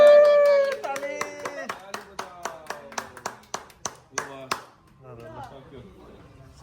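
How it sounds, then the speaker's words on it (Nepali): A small group of family members at a home celebration claps in a steady, evenly spaced rhythm, about a dozen sharp, close hand claps, followed by a voice and quiet talk once the clapping stops. "20K subscriber Tali बजाऊ Tali"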